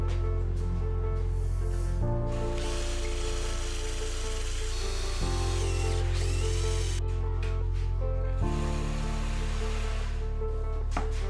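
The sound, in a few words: power drill drilling a hole in a jig base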